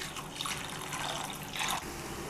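Water pours steadily into a pan of mustard hilsa fish curry, a continuous close splashing stream with a brief swell near the end.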